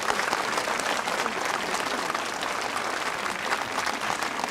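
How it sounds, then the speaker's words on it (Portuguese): Applause from an assembled group, a dense, steady patter of clapping hands sustained for several seconds at fairly close range, with no voices. "Palmas."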